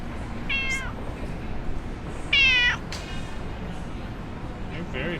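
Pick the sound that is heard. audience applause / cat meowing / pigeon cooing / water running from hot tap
cat meowing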